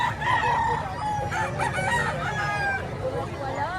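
Rooster crowing at a Batangas poultry market selling gamefowl, a pure black bird among them, with clucking fowl and someone talking throughout in a busy, close setting.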